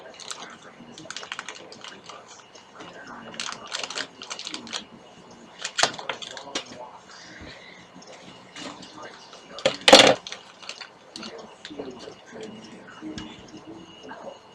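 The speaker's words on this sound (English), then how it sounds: "I'm just gonna cut this bag." Scissors cut open the plastic bag of a Toys R Us exclusive Lego Ninjago set: close, irregular crinkling snips and rustles with a sharp, louder snap near the end, with a voice speaking at times.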